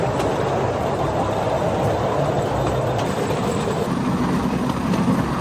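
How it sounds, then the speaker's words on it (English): A steady rumbling roar of a bamboo train rattling along rail tracks in Cambodia, with faint rhythmic clicks and engine drone throughout, loud and continuous. "jump on the bamboo train and then take a ride about 15-20 kilometers"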